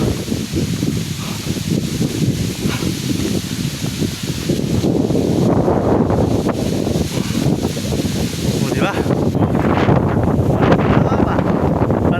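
Strong wind buffets the microphone in a continuous low roar on a mountain trail, with leaves rustling nearby and gusts swelling partway through.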